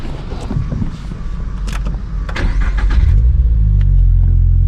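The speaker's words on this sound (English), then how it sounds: "let's do a little semi-cold start." A 2022 Subaru BRZ with an HKS Spec-L exhaust cranks and fires up on a semi-cold start, the exhaust rising into a deep, loud rumble that settles into a throaty idle.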